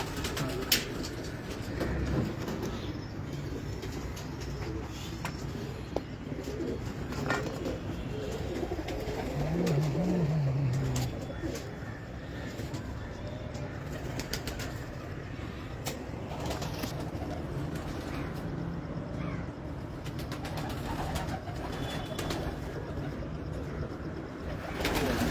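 Pakistani domestic pigeons coo softly at moderate distance, a low steady murmur running throughout with one clearer coo rising briefly in the middle, under continuous background noise and occasional talk.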